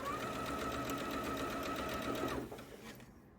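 A sewing machine stitching Japanese fabric quilt pieces, a fast steady mechanical whirring run that stops abruptly near the end, close and clear.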